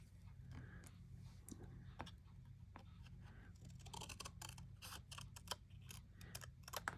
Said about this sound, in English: I'm cutting this off